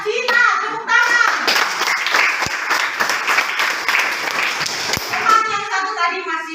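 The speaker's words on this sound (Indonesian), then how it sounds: "Tepuk tangan" Classroom of children applauding together after a correct quiz answer, a steady burst of clapping hands lasting several seconds with children's voices chattering at the start and end.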